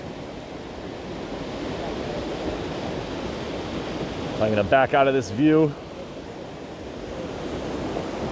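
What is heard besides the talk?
waterfall water splashing off rocks, Hull Creek Falls, Pennsylvania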